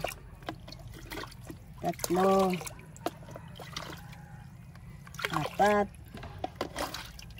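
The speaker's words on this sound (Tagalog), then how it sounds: "nilalagyan ko ang tubig ng hugas bigas" Rice-wash water trickles from a container onto dendrobium orchids in two short pours, each a gurgling, bubbling stream lasting under a second, with a voice talking quietly in between.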